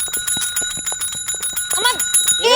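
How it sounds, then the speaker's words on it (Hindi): A desk bell at a police station rung over and over in quick succession, bright metallic dings, some voices briefly audible near the end. "थाने का घंटी है वो, मंदिर का घंटा नहीं है कि आप बार बार बजाएंगी"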